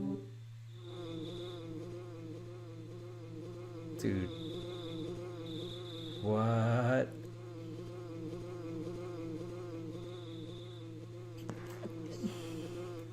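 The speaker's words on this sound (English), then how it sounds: "do you hear a buzzing sound that sounds like a bee flying around?" A bee buzzing as it flies around in the SNES game Earthbound, a thin steady electronic drone over looping game music, with a brief spoken exclamation mixed in.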